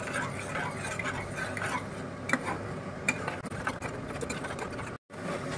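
Sour yogurt stirred and mixed in a bowl, a continuous busy clatter of quick tapping strokes that runs throughout and breaks off briefly near the end.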